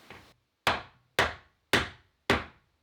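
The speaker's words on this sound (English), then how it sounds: "I need to hammer them in." Staples are hammered in with four evenly spaced, crisp hammer blows, each a sharp close strike that decays quickly into silence before the next.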